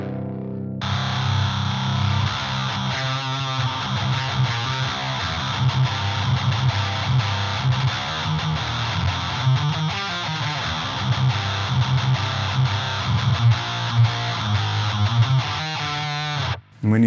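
An electric guitar with an HM distortion pedal for a heavy tone, playing a sustained, heavily distorted riff with steady palm-muted chugging, loud and without voices for most of its length.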